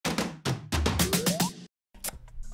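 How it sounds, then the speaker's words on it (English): Punchy snare hits in quick succession roll into a descending tom fill, then a brief pause before a few more drum hits. "emphasized it a bit more with some extra snare drums, and then a tom fill."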